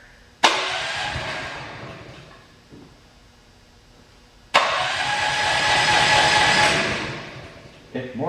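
A UTV engine cranked with the choke pulled, two long cranking attempts that each burst in abruptly and whir loudly for a few seconds before fading, then a third attempt begins at the end.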